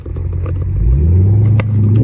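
Sports cars, including Corvettes, an Aston Martin Vantage, TVR Sagaris, Cobras and a Ferrari 308, pull out of Oulton Park circuit in 2024, a close low engine rumble climbing as one accelerates away.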